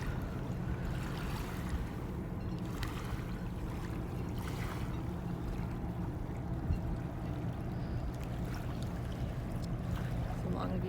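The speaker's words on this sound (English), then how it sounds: "I mean, it's not the ocean, but at least it's water" Steady rushing water flows continuously, a broad wash of noise with faint lapping, heard from nearby with some low rumble underneath.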